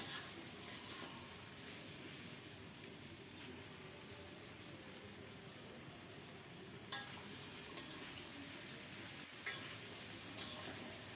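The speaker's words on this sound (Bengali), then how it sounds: "এবার দেব ভেজে রাখা রুই মাছের মাথা" Fried rohu fish head goes into a hot pan of bean seeds, sizzling steadily and evenly throughout, with a few sharp clinks of a utensil against the pan and no talk.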